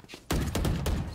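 A single loud gunshot in a competitive shooter video game, then a sustained burst of sharp crackling gunfire right afterward, close and dominant.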